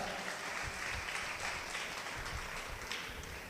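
A church congregation claps steadily and loudly during a sermon, a dense continuous wash of applause throughout.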